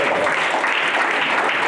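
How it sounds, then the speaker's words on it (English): Steady, dense applause from a town hall audience fills the whole moment, loud and even, with no individual voices standing out. "give a round of applause to these guys"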